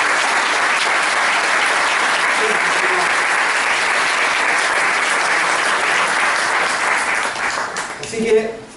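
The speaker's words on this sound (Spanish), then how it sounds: "Yo creo que les demos un aplauso." A church congregation claps loudly and continuously, a dense roar of applause that tapers off near the end as a few voices and a cheer break through.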